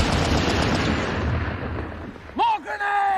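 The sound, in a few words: machine gun fire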